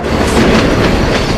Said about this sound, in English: this 39-car runaway train is just minutes away now